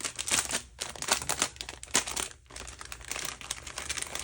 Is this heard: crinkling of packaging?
yes